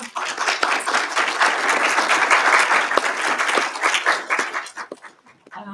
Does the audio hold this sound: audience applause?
yes